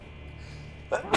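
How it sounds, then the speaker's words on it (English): A single sharp sneeze bursts out near the end after a second of low background hum, close and loud, from someone suffering allergies while playing Batman: Arkham Origins. "I have to sneeze again"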